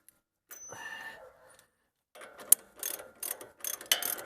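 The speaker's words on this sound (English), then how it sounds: "we go ahead and torque it to 96 foot-pounds, or 130 Newton meters" A torque wrench ratchets as it tightens a shock absorber bolt on a Mercedes ML W163 to 96 foot-pounds, with a short mechanical buzz and then a run of sharp clicking bursts, close and fairly quiet.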